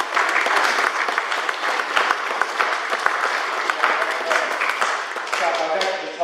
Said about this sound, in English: So give yourself a round of applause for being here today.